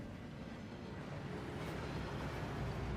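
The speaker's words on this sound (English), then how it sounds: "That waterfall washes away all enchantments." Steady rushing water of an underground waterfall in the Gringotts vaults in Hogwarts Legacy, a dense continuous roar that holds even and unbroken throughout with no voices over it.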